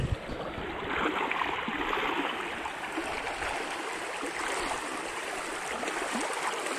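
A strong river current rushes steadily past, a broad continuous wash of flowing water, close and unbroken, with no voices.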